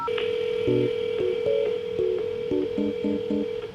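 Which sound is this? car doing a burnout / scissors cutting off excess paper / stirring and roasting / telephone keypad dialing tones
telephone keypad dialing tones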